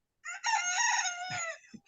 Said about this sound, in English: Was that you or the rooster?